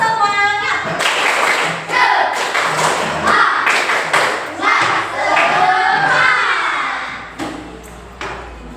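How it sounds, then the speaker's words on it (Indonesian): A classroom of junior high students performs the tepuk semangat spirit clap, a patterned rhythm of group claps and thumps, loud and close, with some voices calling along between the beats. "Tepuk semangat dulu sekali lagi."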